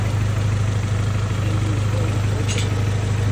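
A Honda Integra with a B20V engine idles steadily and quietly, a smooth continuous low hum with no voices and one brief faint hiss partway through.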